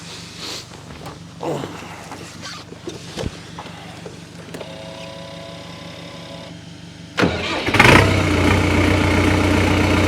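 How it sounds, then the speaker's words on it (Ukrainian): Scout TE-504 50 hp mini tractor engine cranks and catches partway through, jumping to a loud, steady running roar up close after a quieter stretch of faint mechanical noise. "Зараз заведу, покажу, як працює, чи не димить."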